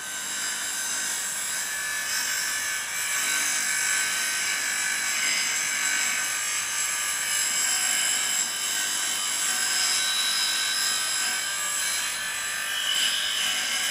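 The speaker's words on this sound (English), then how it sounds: "You can take out the wire, do the grinding on the grinding machine" Grinding a butt-welded wire joint on a grinding machine to remove the burr, with a loud, steady, high-pitched whine that runs unbroken and alone, no voices.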